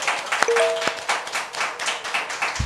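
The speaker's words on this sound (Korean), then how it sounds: "여러분의 힘찬 박수와 함께 시작하겠습니다" A small studio audience claps to open a Korean political talk show with a brisk, rhythmic patter of a few hands. It is moderately loud, with a couple of sharp taps and a short tonal ping early on.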